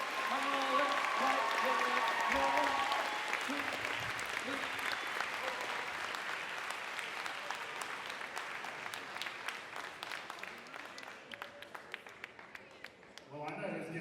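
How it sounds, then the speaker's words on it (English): Loud crowd applause with cheering voices at first, settling into steady clapping that thins toward the end while people talk underneath. "Let's give them another huge round of applause."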